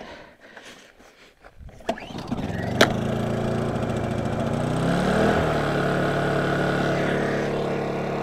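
A Honda generator's small gas engine catches after a couple of faint pull attempts, then settles into a loud, steady running drone close by.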